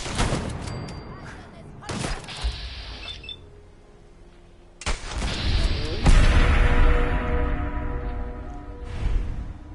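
Turret gunfire in the Fallout 4 video game, heavy crashing bursts and blasts with whooshing debris, loud and close, separated by a quieter stretch, then sustained rumbling fire.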